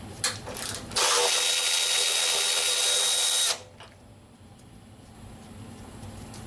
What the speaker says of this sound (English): Now we'll pull our radiator brackets, also a 10mm socket.